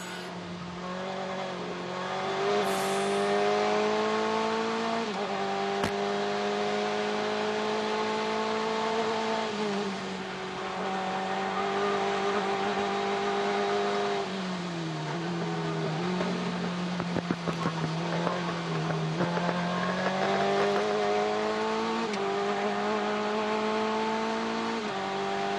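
SCCA race car at the Runoffs accelerating flat out, heard onboard: a loud, sustained engine howl climbing in pitch through the gears, with brief drops at each shift and tire noise underneath.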